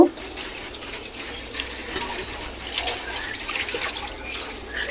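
Fish is rinsed under a running tap in a home kitchen, with a steady close rush of water and small irregular splashes throughout.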